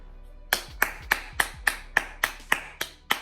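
Ten sharp, evenly spaced hand claps from a single person, close and dry, each a crisp isolated smack with no talking over them.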